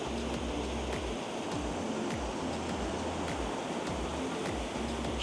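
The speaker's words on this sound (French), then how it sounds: "C'est une mini cascade en vrai, mais elle est belle." A small waterfall in Luxembourg pours in a steady, loud rushing wash of falling water, constant throughout with faint clicks and thumps on top, no talking.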